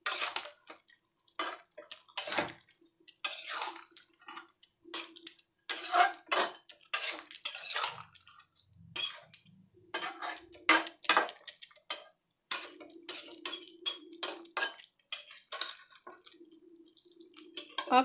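A spatula stirs mixed vegetables and paneer in a pan for a restaurant-style mix veg sabji, making repeated scraping clinks and ticks against the metal in an irregular rhythm, close and fairly clear.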